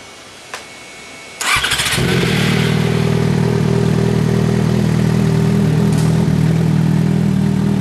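A Yamaha motorcycle fitted with a Two Brothers exhaust fires up with a sharp clatter, then settles into a loud, steady, rumbling idle close by. Faint clicks come just before the start.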